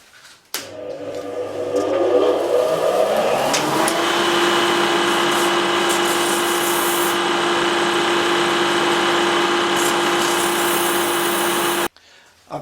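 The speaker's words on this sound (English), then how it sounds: "now on to the sanding. Starting with 100." A wood bracelet spinning on a lathe while it is sanded with 100-grit paper, the motor ramping up into a loud, steady whirring hum with scratchy friction over it, then stopping abruptly near the end.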